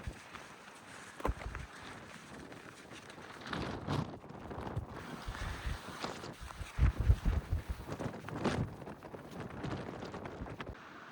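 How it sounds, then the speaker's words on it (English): Gusty wind on the South Downs Way buffeting close to the microphone, rumbling and rising in bursts, with a few stronger blasts near the end. "It's bloody windy"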